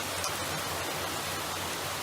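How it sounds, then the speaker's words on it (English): Heavy rain pours down in a steady, dense hiss that fills the whole stretch without a break, loud and close with no voices over it. "that downpour that the weatherman's been calling for over a week showed up today"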